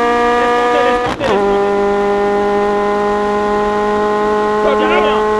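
A Ferrari 430 Scuderia GT3 race car's engine screams at full throttle in a loud, steady high-pitched drone, broken by one brief dip in pitch before climbing and holding again.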